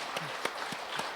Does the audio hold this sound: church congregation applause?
yes